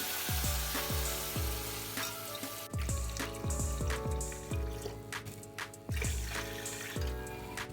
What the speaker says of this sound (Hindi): ये 5 अदद डिब्बे पानी के मैंने डाल दिए हैं।